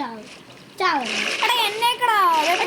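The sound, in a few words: splashing in water in a video game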